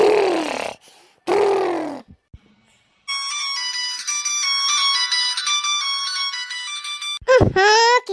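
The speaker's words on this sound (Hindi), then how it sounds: "क्या का फोन बाजे लागा भाई," A mobile phone ringtone plays a bright, repeating electronic melody for several seconds, loud and close, with drowsy groans and grunts from a person just before and after it.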